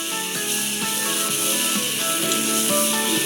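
Spice masala with chilli powder and turmeric frying in a pan for a Bengali prawn fritter curry, a steady, close sizzle running unbroken throughout, with a faint hiss of steam and no voices.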